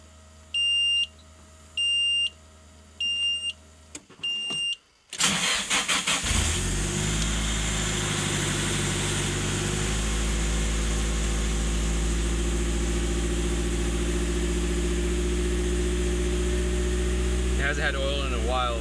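A Nissan SR20DET car engine cranks and starts after a series of electronic beeps, then settles into a loud, steady, close idle that continues to the end.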